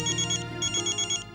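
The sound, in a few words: phone ringing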